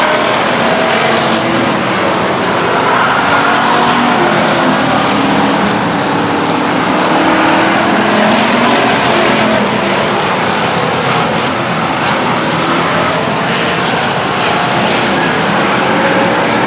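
Race cars lap Stockton 99 Speedway in a 20-lap race, a loud continuous roar of engines from the pack passing close and far with rising and fading sweeps and no talk over it.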